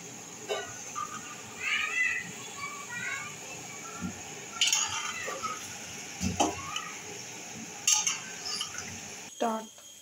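Ghugni with potatoes being stirred in a pan, giving scattered scrapes and clinks of utensil on metal at moderate level over steady background noise, with faint voices nearby.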